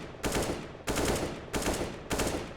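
Four loud, sharp gunshots in a video game, fired at an even pace, each with a brief decaying tail. The shot is an accidental one.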